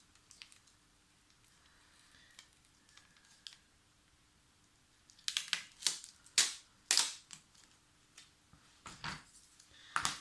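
Depron foam sheet is cut to size, giving a series of sharp crisp snaps and scratchy strokes, sparse and quiet at first, then louder and quicker in the second half, close and with no talk.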